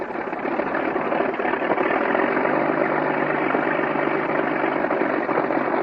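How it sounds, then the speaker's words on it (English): An actual World War I German aircraft's 180 horsepower Mercedes six-cylinder engine runs steadily at a loud, rough, even idle with a low droning hum underneath, continuous and alone, without any talking. "This engine is a 180 horsepower Mercedes six-cylinder engine, the most famous of all the aircraft engines used by the Germans during World War I."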